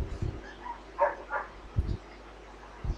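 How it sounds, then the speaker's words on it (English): A few short, muffled dog barks from a distance, spaced irregularly over quiet background noise. "I don't know whose dog that is barking out there."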